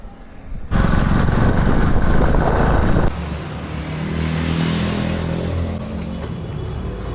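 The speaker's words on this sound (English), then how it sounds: "Going to get our bike from Royal Enfield." Royal Enfield motorcycle engine running after a replacement engine head, a steady loud mechanical drone that shifts to a lower, rougher idle with a rhythmic thump partway through.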